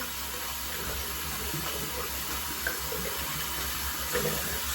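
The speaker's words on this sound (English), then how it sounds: "We're going to splash some hot water on the face like I do." Running hot water at a bathroom sink while splashing the face before shaving, a steady close tap flow with faint intermittent splashes, continuous and without talk.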